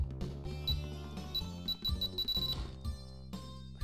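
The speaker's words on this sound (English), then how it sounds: "The beeping getting you anxious." In the Dragon Ball Origins video game, a timer beeps insistently with high, steady electronic tones that repeat over layered background game music.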